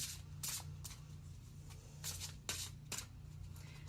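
Soft, rapid riffling and slapping of tarot cards being shuffled, in quick bursts over a steady low hum, fairly quiet and close.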